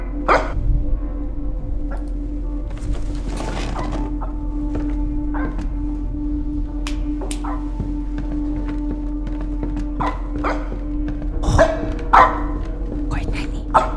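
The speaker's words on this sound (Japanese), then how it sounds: "あ、また吠えてる。" A dog in a video game barks in short separate bursts scattered through the clip, over a steady low background hum, with people talking at times.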